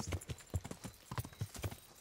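Horse hooves clip-clopping at a steady walking rhythm in the medieval game Kingdom Come: Deliverance, about eight close, distinct footfalls with no talk over them.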